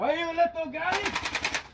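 An airsoft gun fires BBs in a fast burst of rapid snapping shots after a voice speaks, the rattling volley continuing to the end.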